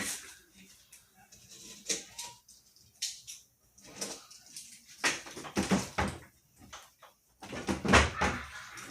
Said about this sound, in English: if you hear that door, that's because that's where I don't know how you say it in Spanish